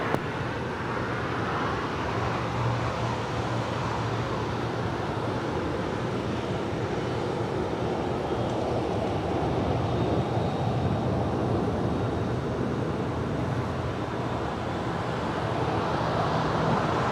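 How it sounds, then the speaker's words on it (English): An Alaska Airlines A320 airliner arriving from Seattle lands at LAX, its engines a steady, broad distant roar holding at an even level throughout, with no talking. "That is Alaska Airlines Flight 257 coming in from Seattle and then A320."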